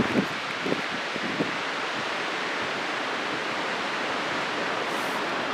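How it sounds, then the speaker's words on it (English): Strong wind with gusts near fifty miles an hour roars outdoors by a waterfall, a steady broadband rush battering the microphone throughout, with a few soft thumps at the start. "Just bear with the wind for a second."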